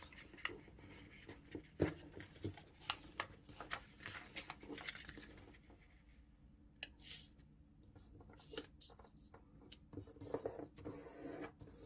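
Sheets of origami paper being creased and folded into a shuriken, with a steady run of crisp, close rustles and sharp crease snaps, no talking.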